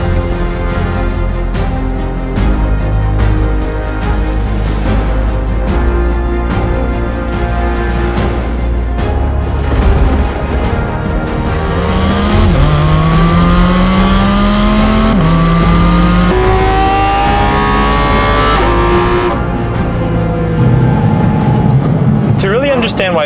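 A Porsche GT4 RS engine revs and accelerates loudly, climbing through rising pitch sweeps and gear changes with a sustained throaty roar, while a voice talks over parts of it.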